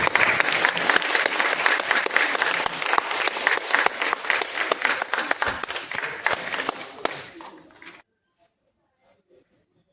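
Audience clapping at a temple-style lamp-lighting ceremony before a cultural program, dense continuous applause lasting most of the stretch, then stopping abruptly into near silence.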